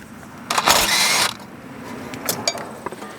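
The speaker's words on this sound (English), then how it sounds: "It can also help to remove this 12mm bolt that's holding the parking brake cable onto the knuckle" A ratchet wrench works loose the 12mm bolt holding the parking brake cable to the rear knuckle of a 2013-2017 Honda Accord, giving a short burst of clicking mechanism followed by lighter, quicker ratcheting clicks close by.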